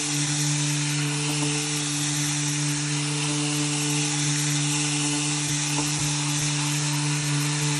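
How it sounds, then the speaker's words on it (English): Orbital sander running with abrasive Festool sandpaper, a steady, loud electric whine with a strong low hum that holds evenly throughout, with no talking. "I'll show you a little sanding with it, just to give you an idea"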